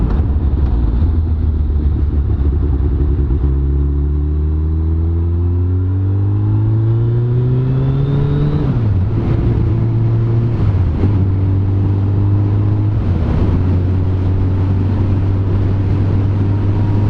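A first-generation Suzuki Hayabusa motorcycle accelerates onto a highway, its engine droning loud and close as the pitch climbs through gears with distinct shift drops, heavy wind rush throughout and no talking.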